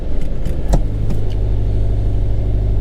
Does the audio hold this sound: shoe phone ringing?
no